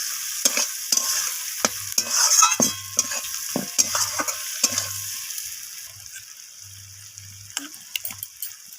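Potatoes, onions and spices stir-fry in a pan, with a bright sizzle and a quick run of scraping, clinking stirring strokes that thin out toward the end, heard up close with no talking.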